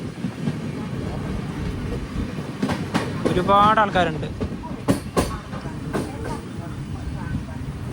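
A Poorna Express sleeper-class train rolls along with a loud clickety-clack of wheels over rail joints, steady rumble throughout, while a passenger speaks briefly over the noise.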